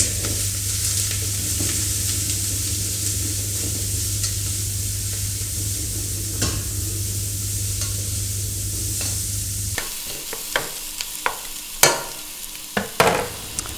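Coarsely cut aromatic vegetables browning in duck fat, a continuous close sizzle with stirring, then the frying settles and a series of sharp clicks and taps follows near the end.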